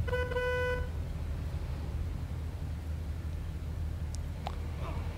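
A car horn honks in the video game Mafia 2 at a red light. One short, loud blast is followed by a steady low engine rumble and hiss.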